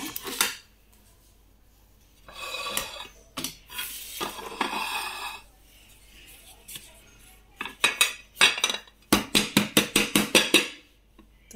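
Chocolate semolina cake, eggless and baked, tapped out of its tin after its edges are loosened: a scrape and clatter of metal and utensils, then a quick run of sharp, close taps against the tin, with no voices.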